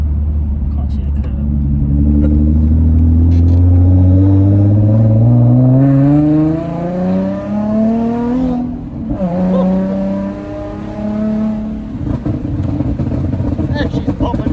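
A Nissan 350Z fitted with an Agency exhaust revs up in long rising sweeps, then drops back and blips again, loud and close, with crackling pops on the overrun.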